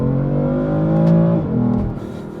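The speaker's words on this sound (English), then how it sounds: "This engine has a sound and a feel that I liken to an E46 M3" A BMW M3 engine revs up loudly and holds a smooth, rising tone, then drops back with a shift as the pitch falls.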